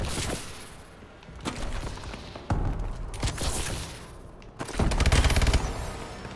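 Bursts of automatic gunfire from the Call of Duty video game crackle in uneven volleys with thumps, heavy and close, pausing briefly between rounds of shooting.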